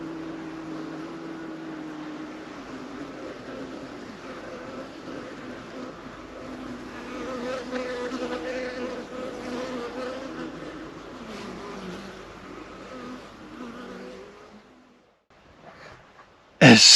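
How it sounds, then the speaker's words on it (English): Bees buzzing at a backyard garden beehive on a sunny winter day in late January, a steady close drone that swells in the middle and fades near the end before a sudden loud bump. "this particular hive, if you get too close in the winter, they get a little sassy"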